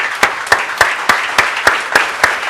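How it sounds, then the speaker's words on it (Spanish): A church congregation claps in unison, a steady rhythmic beat of about nine sharp claps over a few seconds, loud and close. "Démosle un aplauso al Señor"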